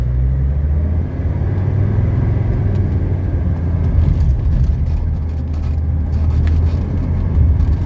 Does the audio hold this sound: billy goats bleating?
no